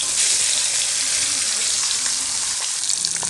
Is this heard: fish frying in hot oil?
yes